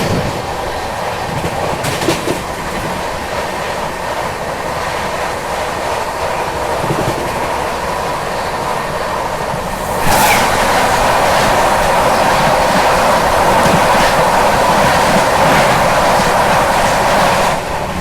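The Northeast Express from Delhi to Guwahati rolling into Tundla railway station, a loud steady rumble and wheel clatter that swells sharply about halfway through and stays heavy to the end.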